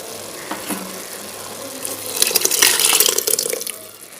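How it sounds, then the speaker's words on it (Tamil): Hot water pours into a pot of soaked rice for mushroom biryani, first as scattered drips and clinks, then as a louder, splashing stream that swells and tapers off. "இப்போ இந்த தண்ணி சூடாக இருக்கு. இப்போ நம்ம ரைஸில் ஆட் பண்ணிடலாம்."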